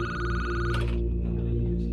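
An old-style telephone bell rings loudly and steadily, close by, the tone shifting partway through, in an office at a flood warning centre in Dresden.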